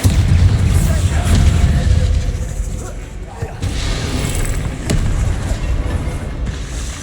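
Explosive spell blasts from Confringo and Bombarda in the Hogwarts Legacy video game: heavy low booms that rumble on and off throughout, with a thick, loud low end and a few sharper cracks.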